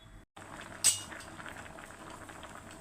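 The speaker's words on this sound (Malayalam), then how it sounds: "അപ്പോൾ നല്ല തിളച്ച് കുറുകി വന്നിട്ടുണ്ട്" A thick yam curry (chena theeyal) bubbles steadily in a pot, a soft continuous simmer with one brief clink near the start.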